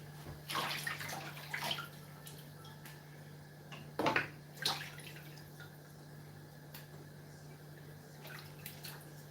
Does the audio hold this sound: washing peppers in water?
yes